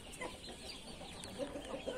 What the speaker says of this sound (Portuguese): Essa galinha preta aqui, galera, ela tá botando essa galinha aí